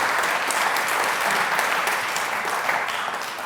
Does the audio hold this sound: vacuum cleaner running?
no